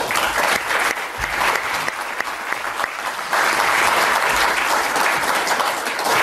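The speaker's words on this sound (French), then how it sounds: "c'est vous ce soir, madame, qu'il faut qu'on applaudisse" Sustained applause from the audience at a conference in the French National Assembly, dense and loud throughout with a brief dip before swelling again.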